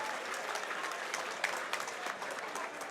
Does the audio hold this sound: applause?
yes